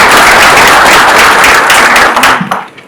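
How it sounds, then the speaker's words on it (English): Loud, dense applause from a crowd at the Kenya Space Agency strategic plan launch event, many hands clapping steadily before tapering off at the end. "Another round of applause"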